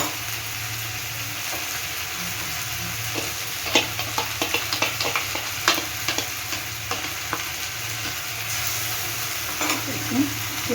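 Water is added to poppy seed and green chilli paste in a hot pan as it is stirred, a steady frying sizzle under a low hum with a run of light scraping taps from the spoon, no talking.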